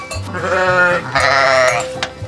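Sheep and lambs bleating on a Greek farm where sheep and goats are milked; several loud, close, wavering bleats follow one another in quick succession with no talk.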